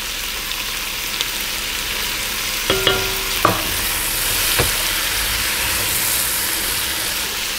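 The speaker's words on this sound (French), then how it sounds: "incorporer les deux autres éléments de la trinité, soit le céleri et le poivron. Et puis on va les laisser fondre avec les oignons." Celery and bell pepper sweat with onions in a pan for a raccoon jambalaya, a steady soft sizzle running throughout with a few brief clinks and scrapes of stirring.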